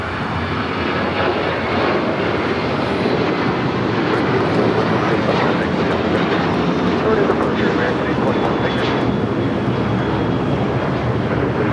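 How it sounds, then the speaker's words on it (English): Boeing 777 freighter aircraft taxiing and turning at LAX airport, a steady loud broadband engine roar holding throughout, with faint voices at times underneath. "the 777 freighter going short, making that turn on the Alpha 8"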